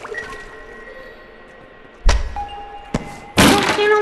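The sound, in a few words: gun dropped on the ground in Animal Company, a video game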